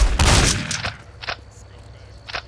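Video game gunfire in Postal 2: a loud burst of rapid shots at the start, then a few sharper single cracks spaced out over the next two seconds.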